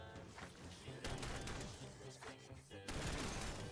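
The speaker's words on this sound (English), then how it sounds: "The gunshots are a bit loud" Rapid gunfire bursts from the Black Ops 7 Zombies video game crackle in dense volleys under ongoing game sound and a faint voice, fairly soft overall.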